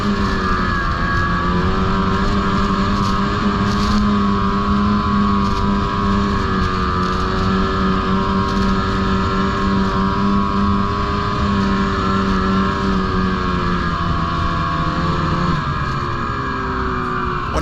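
A snowmobile rides along a rural trail in the Leroy and Stafford area of New York, its engine droning loud and steady throughout with a continuous whine that wavers slightly in pitch, no voices over it.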